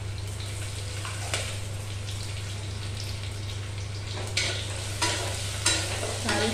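Cumin seeds and a pinch of asafoetida frying in a pan while being stirred, a steady low sizzle with a few sharp scraping clicks from the spoon near the end.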